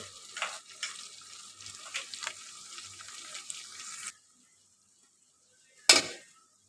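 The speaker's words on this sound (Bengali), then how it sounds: "মশলা দিয়ে দিলাম এখন হচ্ছে একটু মশলাটা ভেজে নিব" Spices frying in a pan for beef bhuna: about four seconds of close sizzling with spatula scrapes and knocks, then near silence before one short sharp sizzling burst.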